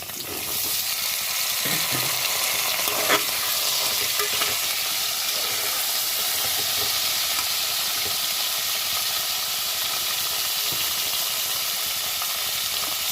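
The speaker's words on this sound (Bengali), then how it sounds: "এর মধ্যে দিলাম আলু, গাঁঠি কচু আর ক্যাপসিকামটা" Constant loud sizzling of potatoes, taro and capsicum frying in a pan, a dense hiss with faint stirring clicks that holds steady from start to finish.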